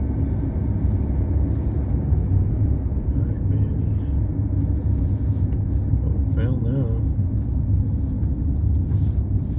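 Steady loud car engine and road rumble from inside a car climbing a steep highway, continuous throughout, with someone talking over the drone.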